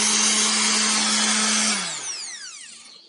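A Black+Decker BS200 electric sander runs with a loud steady whine and rattle, then is switched off and spins down, its pitch sliding away into silence.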